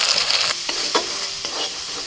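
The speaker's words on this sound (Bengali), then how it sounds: "মশলাটা কিছুক্ষণ কষিয়ে নিয়েছি মশলা থেকে একটু তেল ছাড়তে শুরু করেছে" Ground turmeric, red chilli and coriander powders sizzle steadily in hot oil in a pan while a spatula scrapes and stirs a few times, loud and close with no talking.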